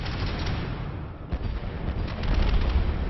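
Warship weapons on auto fire in the naval game Warship: Leviathan make a dense, continuous barrage of rumbling gunfire and booming blasts that stays loud throughout and swells toward the end.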